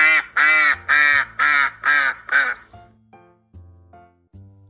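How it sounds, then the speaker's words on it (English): A duck quacks loudly and close, six rapid, evenly spaced quacks, followed by quieter low tones and faint sounds with no other voices. "A female duck is called a duck, while a baby duck is called a duckling."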